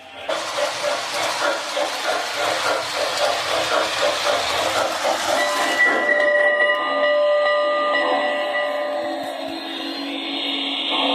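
A small MTH Railking Southern Pacific Daylight GS-2 model steam locomotive chugs in a quick, regular rhythm, then the chuffing stops and a sustained whistle-like tone and mechanical hum take over.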